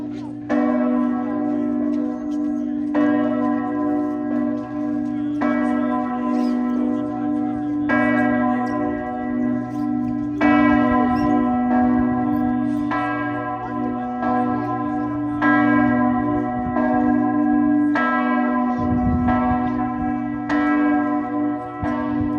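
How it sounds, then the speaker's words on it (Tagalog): A large cathedral bell in Portugal rings with loud, regular strikes roughly every two to three seconds, each one leaving a long, humming resonance that overlaps the next. "Ngayon ako nakarinig ng ganitong klaseng bell, ng cathedral bell na ganyang kalaki sa buong buhay ko."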